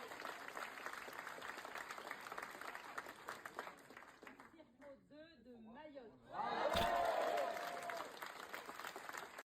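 Applause greets a newly elected deputy: crowd clapping at first, a brief lull with voices, then a louder burst of clapping and cheering.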